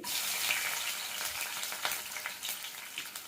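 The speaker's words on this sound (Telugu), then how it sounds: "కడాయిలో ఆయిల్ వేసుకొని ఒక స్పూన్ జీలకర్ర వేసుకోవాలి తర్వాత దంచినటువంటి వెల్లుల్లి" Cumin seeds and crushed garlic frying in hot oil in a kadai, the first step of an amaranth leaf fry; a steady close sizzle with crackling pops throughout, no voices.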